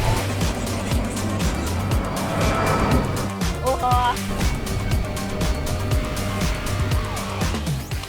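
An Alpha Wolf electric truck drives down a street and takes hard corners, giving a steady, dense rolling vehicle noise throughout with a brief squeal-like tone near the middle and voices mixed in.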